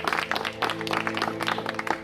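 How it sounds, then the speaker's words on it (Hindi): Lively congregation clapping in a Hindi church service, quick uneven claps over a steady sustained musical tone in the background. "आइए जोरदार तालियों को बजाकर यीशु का स्वागत करें।"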